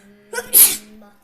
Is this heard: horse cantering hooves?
no